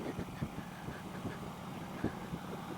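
A Harley-Davidson Road King motorcycle idles with a low, uneven, loping rumble and irregular thumping pulses, steady and close, no one talking.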